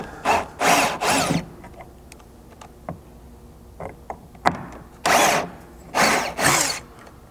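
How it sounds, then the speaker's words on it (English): A power driver with a Torx Plus 30 bit spins out Bronco hardtop hardware in several short whirring bursts, with scraping and clinking of metal parts and the tool handled between bursts, close and fairly loud. "Now this hardware is going to use a Torx Plus 30 driver."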